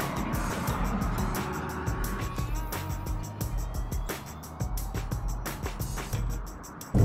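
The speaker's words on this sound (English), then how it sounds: "Well, we're driving home." A car driving along a road, heard from inside as a steady low engine and tyre rumble with road noise, under repeated ticking and clicking sounds throughout.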